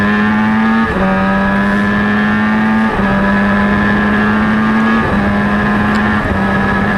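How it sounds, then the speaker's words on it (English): Kawasaki ZXR 400 motorcycles race at a Southern Downs event, a loud, close high-pitched engine whine that climbs through the gears, drops at each shift and climbs again, several times in a row. "both on the little ZXR Kawasaki 400s"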